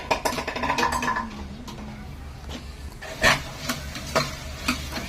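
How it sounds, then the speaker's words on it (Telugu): A ladle stirs vegetables in oil in a pot for one-pot rasam rice, with clinking metal scrapes and light sizzling, plus a few louder knocks against the pot. "గరిటెతో బాగా కలుపుకోవాలి"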